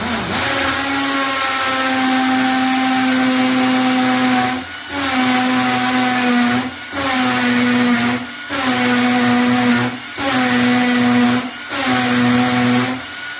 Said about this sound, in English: set your cordless drill to hammer function if your wall's concrete